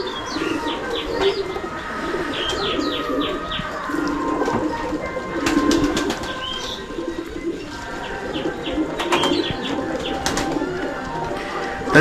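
Pigeons coo in low, rolling calls throughout on a house rooftop as they are fed, with scattered higher chirps and occasional bursts of fluttering wings nearby.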